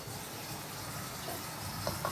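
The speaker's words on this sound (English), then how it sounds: "I am going to add a little bit more water to this." Water poured from a vessel into a pot of sweet syrup for baklava, a steady close splashing pour with no talk over it.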